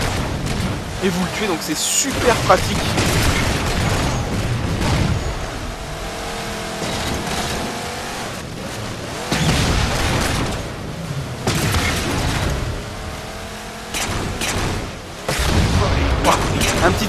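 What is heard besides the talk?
Ghost cannon shots and explosions in video game Halo 4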